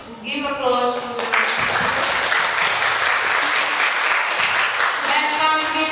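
Audience applauding at a school English debate final, a steady broadband wash of clapping from a full hall lasting several seconds, with a voice talking over the start before the clapping takes over.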